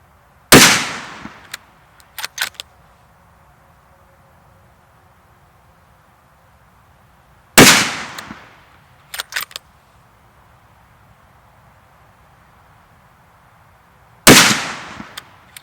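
Three loud, sharp gunshots from an ATA Turqua Synthetic Black Adjustable .308 bolt-action rifle, spaced about seven seconds apart, each followed by a short echoing tail and a pair of quick mechanical clicks from the bolt being cycled.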